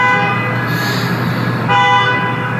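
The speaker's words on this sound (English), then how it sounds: "They're honking at each other." Several car horns honk in a parking lot at 4 a.m., one sustained blare overlapping others, loud and close, with a second horn burst joining near the end.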